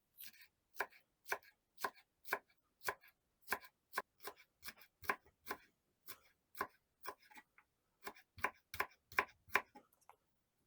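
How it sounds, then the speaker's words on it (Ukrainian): A knife chops green onion steadily on a cutting board, a rapid run of sharp, evenly spaced taps close up with brief pauses between bursts. "хочу притрусити зеленою цибулею, тому її теж наріжу міленько"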